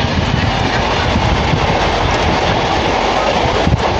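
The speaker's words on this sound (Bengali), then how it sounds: "সিঙ্গেল লাইন ধরে নিল আমাদের ট্রেনটা" A local train bound for Digha runs along single-line track near Kolaghat. A loud, close, continuous rumble and rattle of the carriages fills the whole stretch with no voices.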